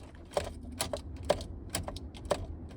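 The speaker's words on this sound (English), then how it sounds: "I can hear the clicking in here when I hit the starter." Starter clicking inside a 2014 Ford Expedition with a swapped Coyote engine, a few light, irregular clicks close by over a low background rumble.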